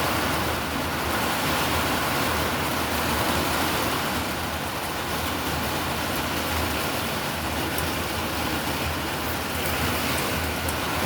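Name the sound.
heavy rain during a severe thunderstorm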